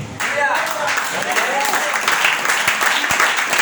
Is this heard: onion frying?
no